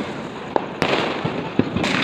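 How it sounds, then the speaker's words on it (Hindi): Diwali fireworks in Siwan, Bihar go off as a series of about five sharp bangs and crackles at uneven intervals, moderately distant over a low background hum. "पूरी आतिशबाजी, पूरा सिवान जगमगा उठा है इस दिवाली।"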